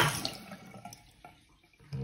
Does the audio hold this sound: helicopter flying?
no